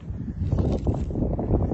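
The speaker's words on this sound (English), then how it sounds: "It's windy." Wind blows outdoors on a mild January day in Tennessee, buffeting the microphone as a low, gusty rumble that swells and dips over a couple of seconds.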